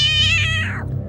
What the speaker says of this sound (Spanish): maullaba ferozmente